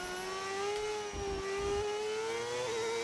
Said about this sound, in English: I have turned on a mod that adds a V8 engine